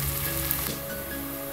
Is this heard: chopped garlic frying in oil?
yes